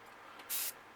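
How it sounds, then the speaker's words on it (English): A short burst of Antelope Brown spray paint hisses onto a bluegill-patterned crankbait, one soft airy puff lasting about a quarter second against quiet room tone. "And I'll spray some Antelope Brown, which is part of that ink again."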